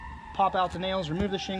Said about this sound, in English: Sorry for the sirens in the background.